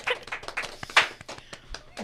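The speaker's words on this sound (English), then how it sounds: "Now you guys can clap." A small studio audience at a talk show claps. The sound is sparse and uneven, irregular hand claps close by with a few louder slaps, not a full roar of applause.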